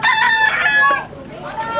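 A rooster crows loudly and close by, one long strained call that breaks off and trails into a shorter tail.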